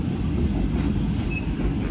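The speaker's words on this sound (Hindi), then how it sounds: "हमारी ट्रेन सरहारी रेलवे स्टेशन को क्रॉस कर रही है" Green Line passenger train in Pakistan, heard from inside an economy-class coach as it runs through a railway station: a steady, loud low rumble of wheels and carriage with a brief faint squeal, no talk.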